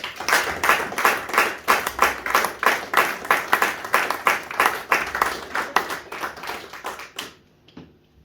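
A church congregation claps together in praise of the Lord, a steady, fairly fast rhythm of loud, close hand claps that continues for about seven seconds and then stops abruptly.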